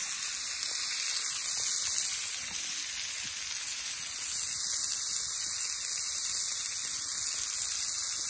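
Moose minute steak frying in a pan, a steady, close hiss of sizzling fat that holds evenly throughout with no voices over it.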